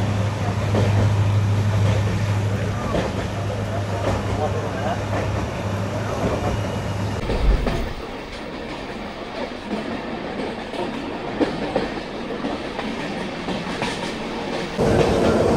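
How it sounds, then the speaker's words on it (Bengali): A passenger train on the Kolkata to Mizoram line climbs through hills near New Haflong junction: a continuous, loud rolling rumble with wheel clatter and a low mechanical drone that drops away halfway through. "পাহাড়ের মধ্যে থেকে আমাদের ট্রেন আরও ওপরের দিকে উঠছে।"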